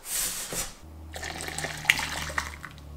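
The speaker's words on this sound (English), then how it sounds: "So I'm going to first pour the water into the oil." Water pours steadily in a short splashy stream into oil, then settles into a low, steady hum.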